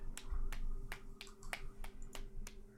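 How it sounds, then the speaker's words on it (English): Sharp, evenly spaced claps in the Chaos;Head visual novel, about eight of them in under three seconds, each crisp and mid-level over a low ambient hum. "he faced me and clapped with feigned innocence"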